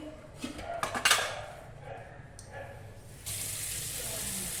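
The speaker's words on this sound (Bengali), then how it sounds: "সবজিগুলো সব ধুয়ে নিই" Vegetables being rinsed in a kitchen sink: dishes and cutlery clatter in a few sharp knocks early on, then a steady stream of tap water runs loudly and close to the end.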